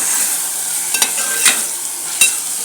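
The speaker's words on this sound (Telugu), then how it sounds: "బీన్స్ చికెన్ ముక్కలు వేసి ఫ్రై చేసుకుంటున్నానండి" Chicken wing pieces and beans frying, a bright steady sizzle broken by three sharp scraping stirs from a utensil against the pan, close and without talking.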